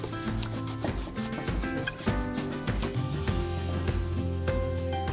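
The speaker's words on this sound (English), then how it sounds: "now I'm going to sand it. I'm going to use my sanding pads" Waxed chalk-painted wooden chair being sanded with sanding pads, a close, steady rubbing and scraping in repeated short strokes with occasional knocks, no talk.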